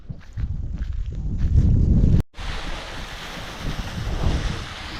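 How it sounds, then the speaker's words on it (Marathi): A cool wind gusts across an open wheat field, roaring and buffeting close to the microphone. It cuts off abruptly for a moment midway, then resumes as a steadier, softer rush. "आज वारं सुटले गार मस्त गार वारं सुटले"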